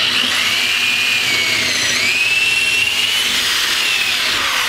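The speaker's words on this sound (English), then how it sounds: "You just kinda drill one hole a little bit above the other one." A power drill bores holes through wood for a homemade wooden go-kart, a loud continuous whine with rising and falling pitch as the bit works through the board, close up with no talk.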